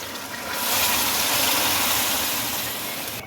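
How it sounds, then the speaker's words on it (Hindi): Two glasses of lukewarm water poured into balti gosht cooking in a wok, a steady close gushing splash lasting a few seconds, alone without talk. "अब इसमें 2 गिलास नीम गर्म पानी वो डाल दें"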